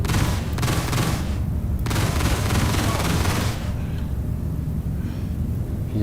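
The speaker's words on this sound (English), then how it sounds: "These are like what? 20mm cannons, I think." Rapid 20mm cannon fire in the Star Citizen space game, a loud continuous barrage of bursts that pauses briefly, resumes, then cuts off to a quieter rumble.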